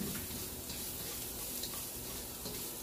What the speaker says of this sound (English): Saute the garlic first.